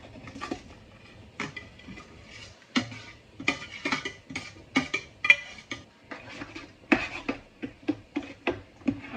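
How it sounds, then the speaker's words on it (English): Repeated clattering scrapes and knocks of a utensil stirring meat, mushrooms, onions and garlic in a pot, in an irregular rhythm of sharp strikes, close and fairly loud. "we're going to mix in our meat, mushrooms, and onions and garlic that we cooked up before"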